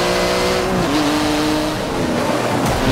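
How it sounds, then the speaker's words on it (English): Race car engine droning with tonal harmonics and shifting pitch, plus tire noise, from the Forza Motorsport 7 racing game during street drifting; continuous and loud throughout. "Taking the sounds of Forza Motorsport 7, man. It sounds nice."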